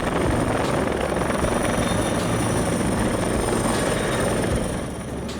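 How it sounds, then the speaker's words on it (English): A firefighting helicopter roars steadily and loud with a constant rotor and engine wash, easing slightly toward the end. "Firefighting helicopter."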